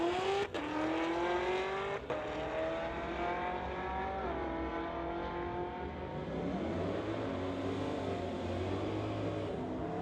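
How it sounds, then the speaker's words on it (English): A Mustang and a 2020 Chevrolet launch in a drag race, loud engines revving hard through rising gear sweeps and shifts, a sustained roar that then settles into a lower drone. "we've got a Mustang in the TCS going against Stephen Kennedy in the 2020 Chev"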